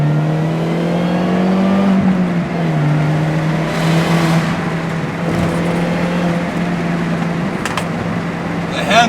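Engine of an R53 MINI Cooper S pulling hard through a pair of corners, a steady close drone with pitch sweeps as it accelerates and lifts, heard from inside the car with someone talking over it.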